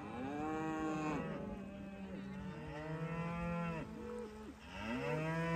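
Several cows moo loudly and repeatedly, long drawn-out calls overlapping one another with no talking.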